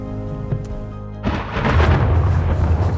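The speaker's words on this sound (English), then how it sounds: "there's no point in going out in a thunderstorm" A deep rumble of thunder from a thunderstorm rolls in after a quiet start, swelling into a loud, sustained roar that fills the rest of the clip.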